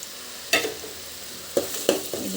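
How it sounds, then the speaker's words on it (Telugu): Onions and ginger paste frying in oil for mutton curry, a low steady sizzle broken by a few sharp stirring scrapes of the spoon against the pan. "ఇది కొంచెం దోరగా వేగేలాగా వేయించుకోవాలి"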